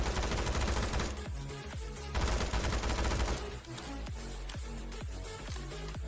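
Gunfire from the mobile battle royale game PUBG Mobile with a P90, loud rapid automatic bursts in dense strings, broken by a few short gaps and single sharp shots.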